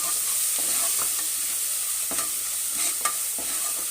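Ginger, garlic and green chili frying in a pan for dal khichdi: a steady, even sizzle with a few soft stirring scrapes and light clicks, close and alone with no voices.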